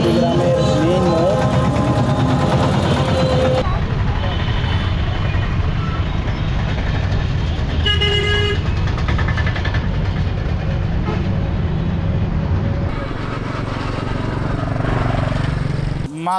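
Busy traffic with big trucks and buses rumbling through the main junction in Kurigram near the Dharla bridge, loud engine drone and road noise with beeps and horn-like tones, under someone talking.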